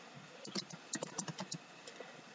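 Fast, uneven keystrokes on a computer keyboard while spelling out country names in a flags-of-the-world game, close and alone, with irregular clicks and short pauses.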